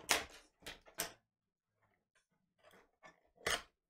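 Scissors snip in several quick, sharp crisp cuts near the mic while opening a pack of 2020-21 Prizm Basketball trading cards, separated by pauses in an otherwise quiet room.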